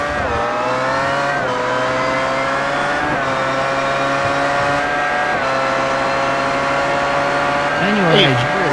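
A sportscar races around a track in the iRacing sim during an Autobahn Motorcar Group Sportscar Challenge event. A loud, continuous engine howl rises and drops with each gear change and corner, under commentators' talk.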